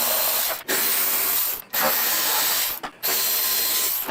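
A power tool whirs loudly in three long continuous bursts with short pauses between them while Torx 27 screws are backed out of a motorcycle fairing, close up and with no voices.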